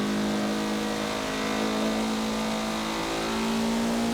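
A 2013 Mazda MX-5 Cup race car in Forza Motorsport 7 at the Nürburgring Nordschleife holds a loud, steady, buzzing engine note at high revs, heard close up and alone throughout.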